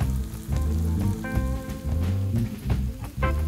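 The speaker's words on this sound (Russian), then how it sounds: "Рис надо обжаривать минуты 3-4." Rice toasting in olive oil with sweet paprika and saffron for a seafood paella, a steady loud sizzle with soft crackling and occasional stirring scrapes throughout.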